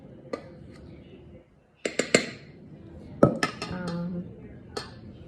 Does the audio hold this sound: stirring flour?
yes